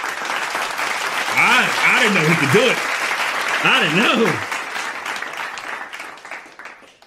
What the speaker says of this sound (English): Give a clap to him